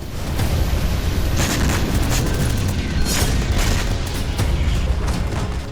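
Heavy gunfire from fighting in Klishchiivka near Bakhmut comes as a loud, dense and continuous roar of booming blasts and rapid cracks, with no letup and no voices.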